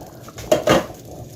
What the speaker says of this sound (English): I'm going to dump it by spoonfuls into the pot